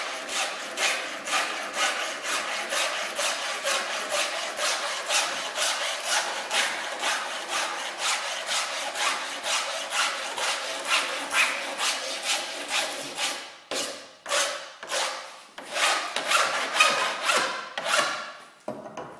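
Abrasive paper is rubbed back and forth across a plastic pencil case lid in fast, regular strokes, giving a dry rasping scrape that slows into fewer, more separated strokes toward the end.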